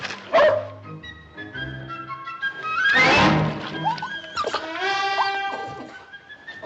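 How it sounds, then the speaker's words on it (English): A dog in an old Western scene gives short yips, a bark and soft whimpers, close and fairly quiet, with a dull thump partway through and no talking. "If you ain't the beatin'est dang dog I ever seen."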